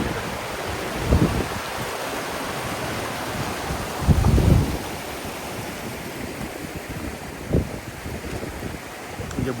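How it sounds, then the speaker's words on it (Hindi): A stream flows near a waterfall by a turquoise lake in Kazakhstan, a steady broad rush of water with wind buffeting the microphone in several low gusts. "यहाँ पे फिर से पानी फ्लो हो रहा है।"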